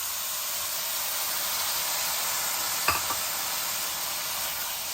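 Tomatoes fry in a pan with onions and ginger-garlic paste for an ice apple curry, giving a steady, bright sizzle throughout, with one brief stirring scrape midway.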